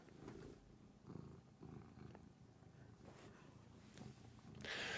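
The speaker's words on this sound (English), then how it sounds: "People don't want you purring in their face." A house cat purrs close up, soft rhythmic rumbling cycles repeating steadily with brief breaks, ending in a louder rustle.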